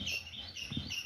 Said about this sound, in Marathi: आणि सकाळी सकाळी तुम्हाला चिमण्यांचा आवाज येत असेल.